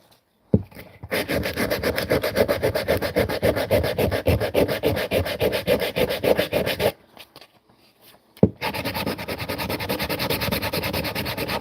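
Sandpaper rubbing back and forth over linseed-oil-coated wood in steady, close, continuous strokes, with a brief pause partway through before the rhythmic sanding resumes.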